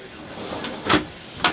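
Large kitchen drawers in a Hymermobil DuoMobil motorhome slide open or shut, giving a couple of soft, short thumps and rattles at close range against a quiet interior.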